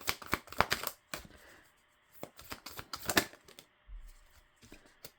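Tarot cards are shuffled in quick, crisp bursts of riffling and flicking, close up, with short pauses between rounds.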